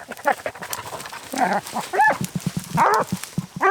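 Hunting dogs bark in short, irregular bursts at close range, with some yelps and voices mixed in, during a mountain lion hunt.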